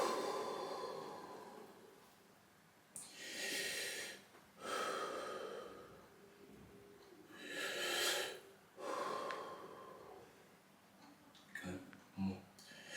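Deep breaths out during a strongman's physio session, several broad breathy exhalations spaced a few seconds apart, close and fairly loud, with voices talking around them.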